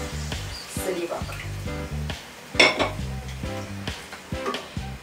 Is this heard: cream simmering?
yes